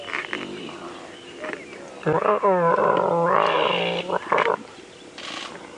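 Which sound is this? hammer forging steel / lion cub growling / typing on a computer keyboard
lion cub growling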